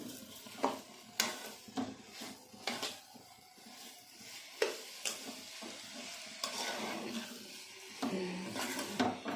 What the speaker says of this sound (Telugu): దాన్ని మొత్తం బాగా కలుపుతూ ఉండి దాన్ని మొత్తం దగ్గరగా అయ్యే వరకు వేయించుకుంటూ ఉండాలి.